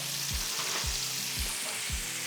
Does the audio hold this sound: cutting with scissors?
no